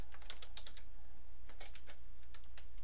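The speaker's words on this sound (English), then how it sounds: "if I would type something like this row" Typing on a computer keyboard while writing a macro: scattered quick clusters of light clicky keystrokes with short pauses between, close and clear over a quiet low hum.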